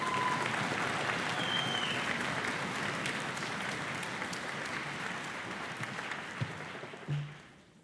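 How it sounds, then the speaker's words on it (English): Audience in a hall clapping for student orchestra performers at a combined high school spring concert, a broad sustained wash of applause that fades out toward the end. "So let's give them one more big round of applause."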